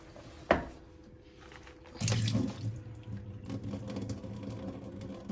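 Running tap water in a kitchen sink as fresh parsley and cress are set to soak, a sharp clatter first, then steady splashing and trickling that continues close by with no talk.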